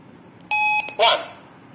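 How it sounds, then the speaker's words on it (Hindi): A Sanchar analog radio's low-battery alert: two electronic beeps close together, a steady multi-tone chirp followed by a brief harsher buzz, loud and clear against a quiet background. "ये फीचर आपको बताता है कि आपकी बैटरी अब लो हो चुकी है और इसको चार्ज की जरूरत है।"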